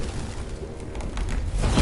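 A pigeon coos briefly in Detroit: Become Human, with soft bird calls over a low game backdrop that swells into louder noise at the end.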